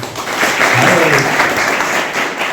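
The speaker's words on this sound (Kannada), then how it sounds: "ಅದೊಂದು ದೊಡ್ಡ ಚಪ್ಪಾಳೆ ಹೇಳಿ" Sustained applause from an audience at a Lions Club legal awareness workshop in Vijayapura district jail, a dense steady clatter of many hands filling the whole stretch with a few voices mixed underneath.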